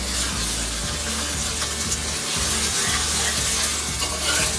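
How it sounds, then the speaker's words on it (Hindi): Ginger and garlic fry with browned onions in a pan for chicken pulao, a loud, dense sizzle that fills the whole clip, broken by a few scraping stirs. "लहसुन अदरक फ्राई हो चुका है।"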